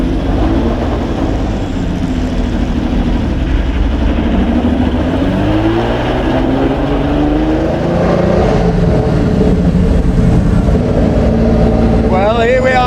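The unique Jaguar XJ13 race car revving on track between 5,000 and 6,000 RPM, a loud, raw engine roar that rises and falls in pitch throughout, close by.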